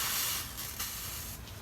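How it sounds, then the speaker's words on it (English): Steady hissing spray of fine water mist from a garden hose on its mist setting, close and continuous, with slight surges in intensity. "I take my hose, I put it to mist"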